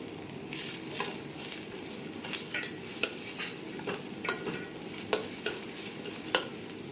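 Onion, cabbage and carrot stir-fry for fried rice, giving a steady sizzle under repeated scraping stirs of a spatula in the pan, close and fairly even in rhythm.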